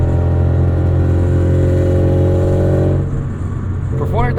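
A 1990 Acura Integra RS with 400,000 miles and an aftermarket eBay exhaust revs at half throttle, loud and close, a steady raspy drone that eases off toward the end.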